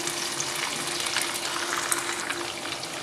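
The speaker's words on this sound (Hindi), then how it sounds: "दो 3 मिनट अच्छे से फ्राई करेंगे।" Murgh chana, Lahori chicken with chickpeas, fries in a pan with a steady, close sizzle and crackle that holds evenly for the whole stretch, with no voices.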